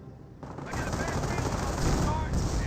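Base flak guns in the video game Company of Heroes fire continuously in a dense, rapid, steady rattle that holds loud for the whole short stretch.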